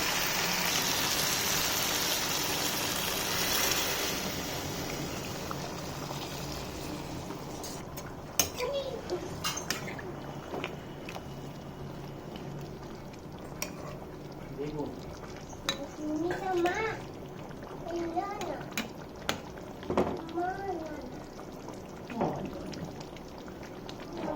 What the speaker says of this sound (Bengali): এবার এতে গরম জলটা দিয়ে দেবো।